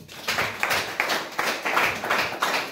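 A church congregation claps together in a steady rhythm of bright, even beats, a crowd of hands sounding close and lively without any voices.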